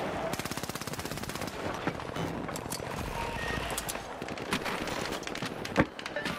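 Rapid automatic gunfire in the first-person shooter video game The Finals rattles in a fast burst, followed by scattered single shots and impacts at moderate loudness.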